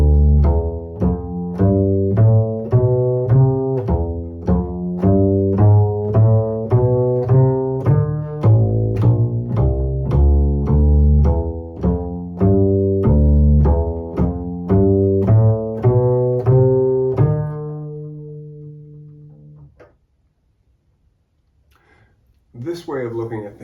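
Jazz passage built on flat 9 and sharp 9 note choices over changing harmony, played as dense sustained chords and melodic lines in a steady flowing rhythm, ending on a held chord that fades to near silence before a brief faint noise.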